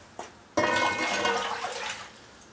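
Tap water pours into a cooking pot for chicken egg drop soup, starting with a short splash and then a steady rushing stream that gradually eases off, heard alone at moderate loudness.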